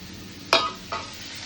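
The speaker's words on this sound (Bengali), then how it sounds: "আমি আজকে এটা ভাজা করছি" Two quick sizzling bursts, as food is stirred in a hot pan, over a low background hiss.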